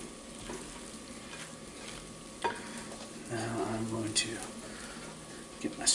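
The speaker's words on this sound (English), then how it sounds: "Just keep giving that a good stir until you got everything's incorporated nicely." Veggie chicken salad with mayo is stirred in a bowl, giving soft, wet scraping and squelching strokes with occasional utensil knocks while a person talks.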